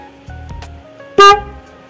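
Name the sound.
single low-pitched car horn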